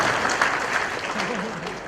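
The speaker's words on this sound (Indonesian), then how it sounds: "Tepuk tangan buat ikan." Audience applause at a halal bihalal gathering during a stand-up comedy set, a steady wash of clapping with a voice talking over it near the end.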